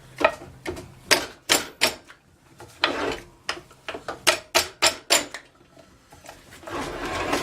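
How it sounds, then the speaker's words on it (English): Rapid mechanical impacts strike metal in uneven bursts, a sharp clattering hammering that speeds up and pauses, fairly close. "I might want to use my impact hammer,"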